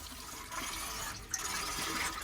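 Water rushes and gurgles as it is flushed through the plate heat exchanger of a Viessmann boiler, a steady splashing flow with a small knock partway through, with nobody talking.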